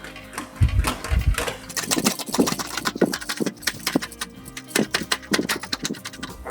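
Steel hood nose piece for a 1940 Ford Coupe-inspired build being rolled through an English wheel, a steady run of rubbing, clicking metallic passes with low thumps, close and continuous without talk.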